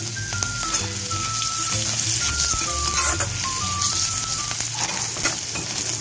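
Asafoetida, cumin seeds and green chili frying in hot oil with a dried red chili, a continuous loud crackling sizzle with stirring, while a faint melodic tune plays in the background.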